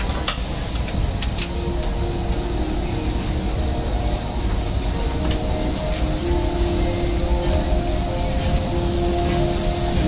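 Disneyland Railroad train rolling along its track at Disneyland, California, heard from aboard as a steady loud rumble and rail hiss with faint squealing tones throughout, no talking.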